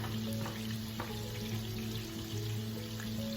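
Butter sizzles in a pan with lemon juice, a steady close hiss with a few light taps, under a continuous low hum.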